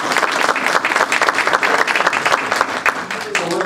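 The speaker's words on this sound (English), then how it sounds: "I want you all to give yourself a round of applause." Loud audience applause at a foundation's annual address, dense continuous clapping from a large crowd that holds steady and begins to fade near the end.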